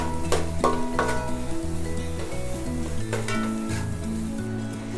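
Onions sautéing toward golden brown in a pan for restaurant-style paneer rice, a steady sizzle with periodic stirring scrapes beneath a tonal musical backing, close by.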